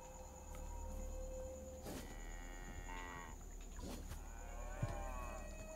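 Cows mooing in a video game, several long drawn-out moos spread across the clip over a steady low background hum, moderately close.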